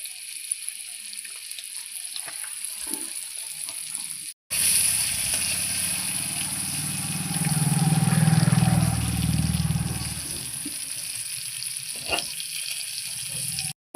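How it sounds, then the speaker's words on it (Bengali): Boiled eggs frying in hot oil in a kadai while being turned over, a steady close sizzle that swells louder mid-clip, with occasional clinks and brief cuts at both ends. "এবার আমি ডিমটা ভালোভাবে উল্টে পাল্টে মিনিট 5 সময় ধরে ভেজে নেব।"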